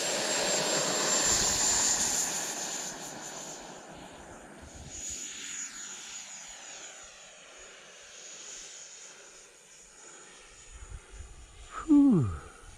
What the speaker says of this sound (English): First flight's gonna be e-flite F-16. Let's go flying.